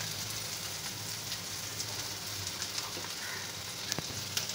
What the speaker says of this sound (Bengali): কিছুক্ষণ এটা আমি ভাজতে থাকবো।